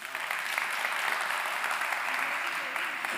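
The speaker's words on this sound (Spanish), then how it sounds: "Aplausos." Steady applause from a crowd, dense and continuous clapping with no pauses, fairly loud throughout.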